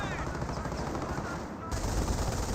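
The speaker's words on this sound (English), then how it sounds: "does receive suppression there from the base MG. Which actually has a bit of damage onto it" A base MG machine gun in Company of Heroes fires in a dense, continuous rattle, fairly faint and steady, with a slight jump in loudness partway through.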